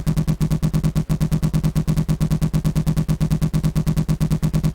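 Rapid automatic gunfire at a rock in Arma 3, a long even burst of sharp, closely spaced shots in a steady fast rhythm, loud and near with no talk.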